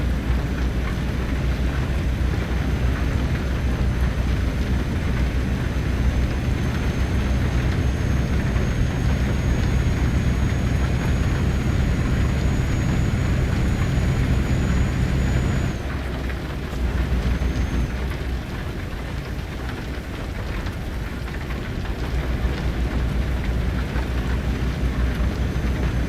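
Rain in Euro Truck Simulator 2 while driving a truck, a dense continuous patter over a low engine and road rumble, with a faint high whine that cuts out partway through.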